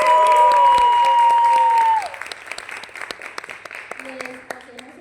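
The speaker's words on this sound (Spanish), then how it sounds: "Un aplauso por favor." Audience applause at a body-and-matter theatre and arts event in Cali: an initial stretch with a sustained tone and voice over the crowd, then a scattered, moderately close run of handclaps that carries on steadily.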